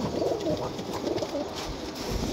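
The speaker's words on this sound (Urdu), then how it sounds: "اے کبوتر بھی دیکھو ماشاءاللہ" Pigeons coo softly in repeated low, throaty bursts on a rooftop in Jhelum, close by and continuous, with no talk over them.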